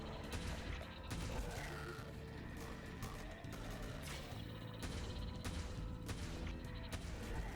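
Rapid, continuous gunfire from the game Devil Daggers, a dense crackling barrage with steady intensity and small bursts, fairly faint overall and without clear speech.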